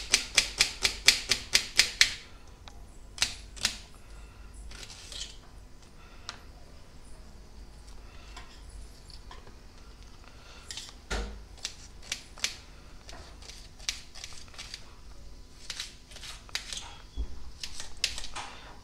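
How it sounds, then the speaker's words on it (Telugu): Sharp knife chops through onion on a board, working through an onion for a potato curry: a fast rapid-fire run of crisp taps, then scattered slower cuts and short bursts, close and clear with no talk. "అందుకనే నేను ఉల్లిగడ్డ కూడా కోస్తున్నాను"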